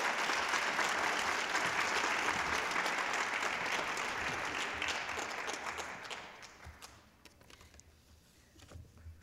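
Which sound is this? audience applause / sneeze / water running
audience applause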